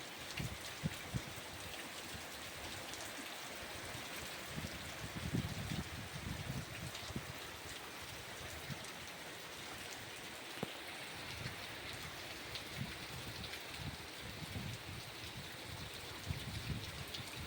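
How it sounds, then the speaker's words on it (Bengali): Heavy rain pouring outdoors in strong wind during flooding, a dense, steady hiss of drops striking surfaces and water, continuous and fairly distant-sounding for the whole stretch with no speech. "খুব সুন্দর বৃষ্টি হচ্ছে"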